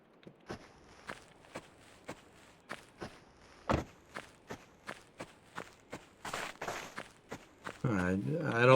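Footsteps crunch along in My Winter Car at a steady walking pace, evenly spaced and fairly close, about fifteen steps with no talk, before a rising rustle at the end.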